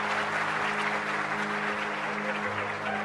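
An audience applauds at a motivational lecture, steady clapping that continues evenly for about three seconds over a faint low hum.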